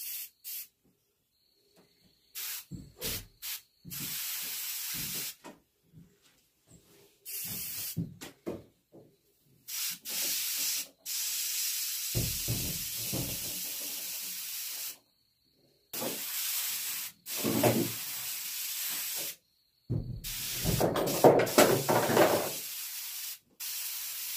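Airbrush spraying paint onto a carved wood duck decoy, repeated bursts of airy hiss starting and stopping irregularly, close and fairly loud, with short silences between passes.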